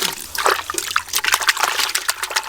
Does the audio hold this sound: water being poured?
yes